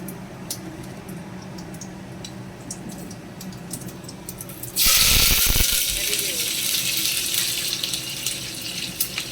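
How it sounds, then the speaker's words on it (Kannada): Mustard seeds and cumin drop into hot oil midway, bursting into a loud, steady sizzle after a quieter start, continuing strongly to the end. "ಸಾಸಿವೆ ಜೀರಿಗೆ ಹಾಕ್ತಾಯಿದ್ದೀನಿ"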